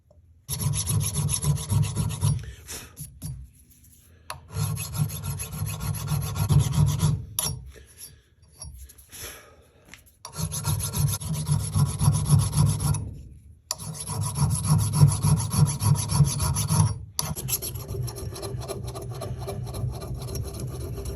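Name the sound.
filing paint off an old hatchet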